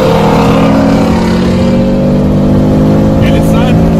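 A 2018 Ford Mustang GT Premium with a six-speed MT82 manual, accelerating hard in third gear while racing a Shelby GT350, its engine droning loud and steady in the cabin with a voice heard over it.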